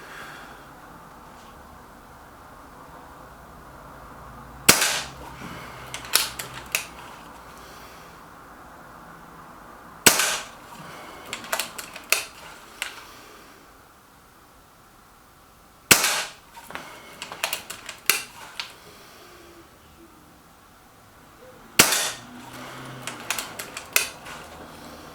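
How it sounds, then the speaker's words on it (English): A Reximex Myth .22 air rifle fires pellets: four sharp cracks spaced several seconds apart, each followed by a few fainter clicks and knocks, over a quiet outdoor background. "Let's try and get a quick 5 shots in before my camera gets damaged."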